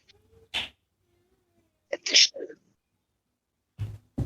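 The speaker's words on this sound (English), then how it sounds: "Okay, I thought you sneezed." A sharp sneeze bursts out in a quiet room, followed by a couple of brief vocal sounds and a faint noise.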